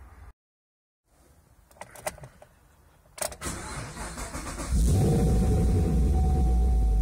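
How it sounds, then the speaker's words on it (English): Chevrolet Camaro in cold weather, a few clicks and a short cranking whir, then the engine catches and settles into a loud, steady rumbling idle, close by and with no talk. "Let's see if the car starts now."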